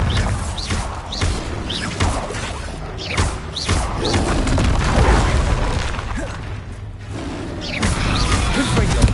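A Bombarda spell explodes during combat in the Hogwarts Legacy video game, with repeated booming blasts and crashing impacts over a dense, continuous game soundscape.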